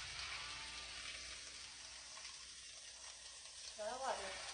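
Chicken browning in a frying pan, a quiet steady sizzle with a brief faint voice partway through and a louder burst of sizzling near the end.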